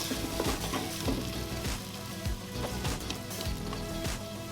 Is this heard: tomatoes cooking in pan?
yes